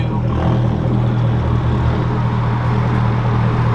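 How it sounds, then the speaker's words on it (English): The LS2 V8 in a custom Corvette C6 idles with a deep, steady rumble, loud and close, a continuous low throb with no revving. "You can kind of hear the rumbling of that LS2"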